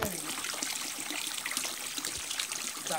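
Water draining through an external bell siphon on an aquaponics setup, a steady close trickling rush with gurgling bubbles, fairly quiet and continuous.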